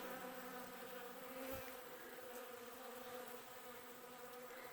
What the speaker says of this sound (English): Can you hear the buzzing? Oh, the bees are very happy.